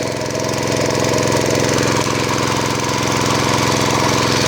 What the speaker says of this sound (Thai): เร่งเครื่องพอประมาณนะครับ